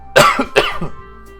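Two close, loud coughs from one person, following each other in under a second, then a short quiet tail, with no talking.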